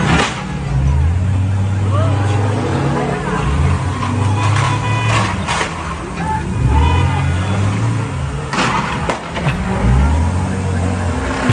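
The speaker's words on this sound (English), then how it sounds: "Here are the collisions caught by a bystander." Trucks rev and slam into each other, filmed by a bystander, with roaring engines rising and falling and sharp crashing impacts repeating, loud and close, while people talk over it.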